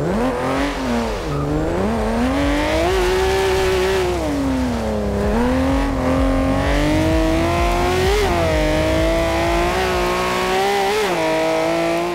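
Classic Ferrari engine in the racing game Forza Horizon 2, a sweet, loud continuous drone rising and falling in pitch as the car shifts and accelerates, with faint tire noise beneath.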